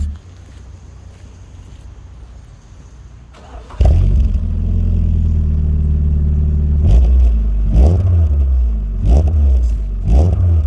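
An MG ZR 120 with a K-Series engine and a lit engine management light fires up instantly after a quiet idle-free lead-in, then settles into a loud idle broken by several sharp revs, close and without talk.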